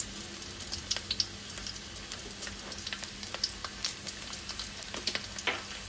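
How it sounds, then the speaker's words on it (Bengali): Chopped garlic and whole cumin seeds sizzle softly in hot oil in a pan, a quiet steady crackle with scattered small pops and ticks, heard alone without talk. "রসুন আর জিরাটা ভাজা ভাজা হবে"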